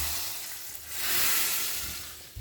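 Tadka tempering for moong masoor daal sizzling in a pan, a steady broadband hiss that swells in the middle and eases off toward the end, with a brief bump at the close; no talking.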